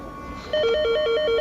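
A telephone rings with a rapid two-tone electronic warble that starts partway through and repeats steadily, loud and close, with no talking over it.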